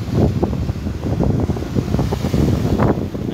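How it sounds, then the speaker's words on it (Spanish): Rough sea waves and strong wind hit the beach at Mazatlán, a loud continuous roar of surf with heavy wind buffeting the microphone throughout. "Es que el mar sí está bravo"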